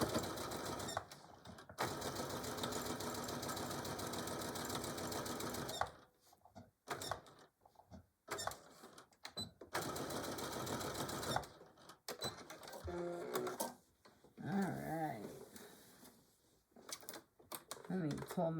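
Sewing machine stitching a Christmas table runner, running in long steady whirring bursts that stop and restart, with short pauses and some handling noise between runs.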